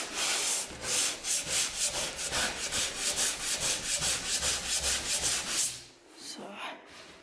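Hand sanding on a construction site, rhythmic back-and-forth rasping strokes close to the microphone, steady and even for several seconds before easing off near the end.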